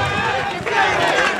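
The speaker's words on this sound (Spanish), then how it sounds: "Y los aplausos, por favor, para los amigos de la agrupación folclórica Juventud Concepción Calidad." A carnival audience gives a brief, loud burst of cheering and clapping for a folk dance group, a dense wash of crowd noise heard up close.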